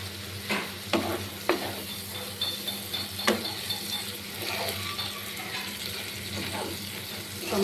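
Spice paste with chopped tomatoes fries for egg curry, a steady sizzle broken by scattered scraping stirs and clicks of a spoon against the pan, close up.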